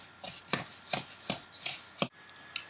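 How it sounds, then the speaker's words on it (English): Almond bar batter being mixed until fluffy, heard as a steady series of rhythmic scraping, thudding strokes about every half second, close and fairly loud, with no talking. "And then mix until it's fluffy."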